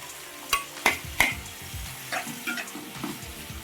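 Onions and green chillies are stirred into hot oil already seasoned with cumin and mustard seeds for an eggplant and meal maker curry, sizzling steadily at close range with a few sharp spatula scrapes against the pan. There is no talk.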